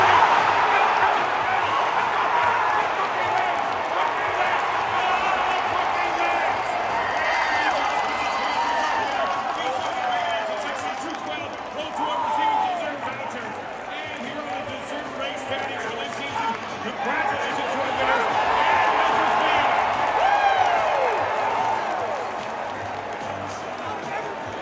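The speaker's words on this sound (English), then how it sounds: "The crowd goes absolutely crazy." Hockey arena crowd roaring and cheering after a goal at a New Jersey Devils game, a dense sustained wall of voices with whistles and shouts rising and falling over about twenty-five seconds.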